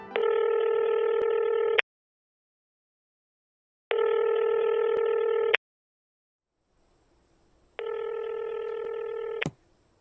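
Telephone keypad dialing a cold call, bursts of DTMF touch tones in three evenly spaced blocks separated by silence, loud and close, followed by a faint high ringing line tone near the end.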